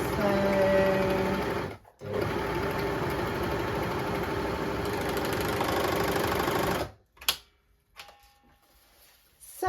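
A Jaguar 489 overlocker runs at a steady, continuous whir as it serges slippery dance fabric into a small tube, pausing briefly near the start, then stopping, followed by a few faint handling clicks.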